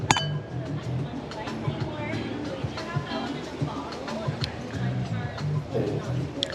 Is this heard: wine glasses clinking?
yes